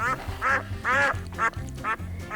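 Ducklings quacking in a short series of five or six nasal calls, close and fairly loud, with brief gaps between them and no talking.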